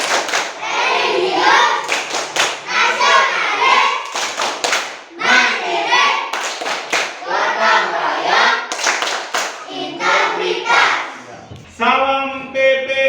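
A class of children standing in a classroom performing the PPK clapping routine: bursts of loud, rhythmic hand claps alternate with chanted voices. A teacher's voice comes in near the end.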